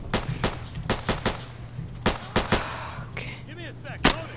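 Gunfire in the Insurgency tactical shooter, a run of sharp, loud single shots in an uneven rhythm, roughly ten reports, with a few more distant cracks and echoing tails near the end.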